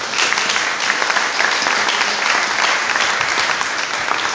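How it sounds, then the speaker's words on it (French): A church congregation claps for the Lord in steady, dense applause that stays loud and even throughout, with no pauses. "Acclamez pour le Seigneur."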